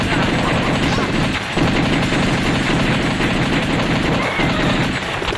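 Gunfire in the House of the Dead arcade shooter game roars as continuous loud rapid automatic shots with dense noise, briefly dipping twice, with no talk over it.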